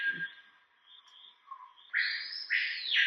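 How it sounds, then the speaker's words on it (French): A screaming piha calls in the Amazon rainforest, a loud, clear whistled phrase that rises and swoops at the end, standing alone over quiet forest background with a fainter bird note earlier. "on va entendre un oiseau qui est un oiseau assez répandu en forêt amazonienne"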